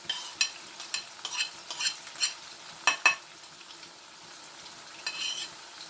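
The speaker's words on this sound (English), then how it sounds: "there goes in my chilli, my scotch bonnet for heat" Scotch bonnet chilli, ginger and garlic sizzle in a hot pan, with a string of sharp utensil scrapes and stirs punctuating the steady frying hiss, close and clear.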